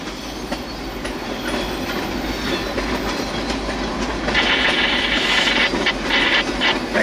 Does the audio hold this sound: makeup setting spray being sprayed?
no